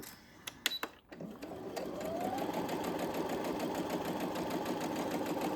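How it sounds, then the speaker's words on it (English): Household sewing machine stitching a fabric zipper pouch, a few clicks of setup, then a steady fast mechanical whirr of running stitches, close and alone. "So I'm gonna sew to my last clip, and then I'm gonna back stitch and leave that hole."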